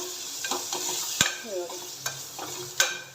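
Maggi masala and other spices fry in oil in a pressure cooker for pasta, a soft steady sizzle broken by sharp clinks and scrapes of a stirring spoon against the pot, with no talking.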